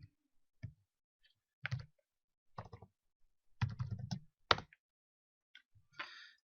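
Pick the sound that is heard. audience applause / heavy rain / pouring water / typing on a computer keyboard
typing on a computer keyboard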